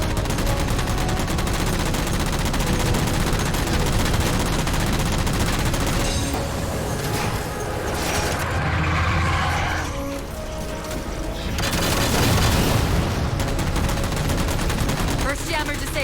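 Sustained gunfire from Halo 4 as jammers are shot down, loud rapid automatic bursts with mechanical clatter and brief pauses, dense and continuous over the whole stretch.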